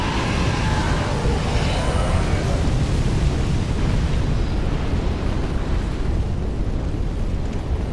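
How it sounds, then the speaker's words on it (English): A dragon in Dark Souls 3 breathes fire in a sustained, loud, roaring rush of flame that fills the whole span with dense noise, with no speech over it. "When's he gonna breathe his fire down this way?"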